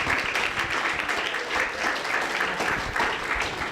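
A university debate audience applauds, a steady wash of many hands clapping at moderate volume that holds evenly from start to finish with no talking over it.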